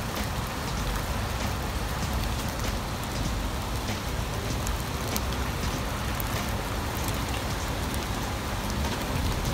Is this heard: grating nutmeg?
no